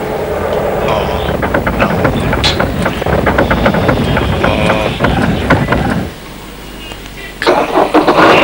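Car engine starting in a Hindi comedy series, a loud churning crank that runs for several seconds before cutting off, with wind noise and a burst of sound returning at the end.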